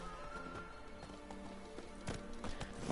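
Horse galloping in The Witcher 3 video game, a fast rhythmic clip-clop of hooves with faint game ambience, moderately quiet and with no speech.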